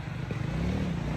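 Motorbikes pass along a street in Lahore, a low engine drone with a brief passing whine, heard at moderate distance under general traffic noise.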